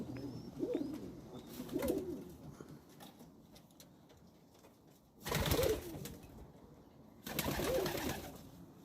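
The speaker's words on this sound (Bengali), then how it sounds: "18-19টা কবুতর আছে।" Pigeons coo in a back garden in Oldham, UK, several soft cooing phrases coming in bursts with quiet gaps between them, fairly close and gentle.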